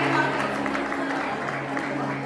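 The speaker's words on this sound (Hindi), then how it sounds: "अमित जी के लिए बहुत जोरदार तालियां" Sustained applause from an audience at a Mahavir Jayanti stage play about Sita's trial by fire, a continuous even patter of many hands over a low electrical hum, fading slightly toward the end.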